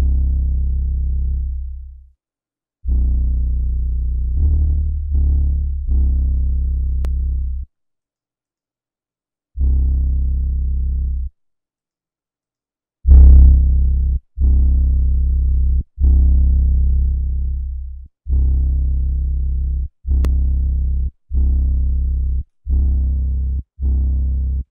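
Bass line processed through the SSL Fusion Violet EQ plug-in in Ableton Live 11, playing loud sustained low notes in short repeated phrases separated by brief silences, heard alone.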